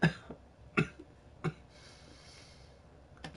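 A few sharp coughs break out near the start, three quick bursts within the first second and a half, then another faint one near the end, all over a quiet background.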